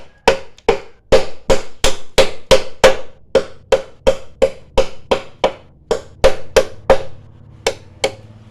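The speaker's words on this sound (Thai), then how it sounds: "เราต้องมาเจาะด้านหลังนะนนี่" Tool striking the back of a bamboo flower pot to make a hole, heard as a steady series of about twenty sharp, evenly spaced knocks, close and loud, with no voices.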